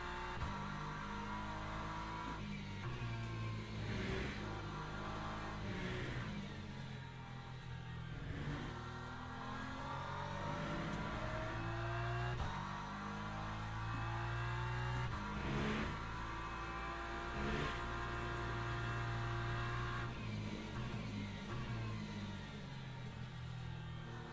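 A GT3 race car engine in Le Mans Ultimate revs up and down through gear changes on a lap. The steady, fairly quiet in-car drone rises and falls in repeated acceleration sweeps.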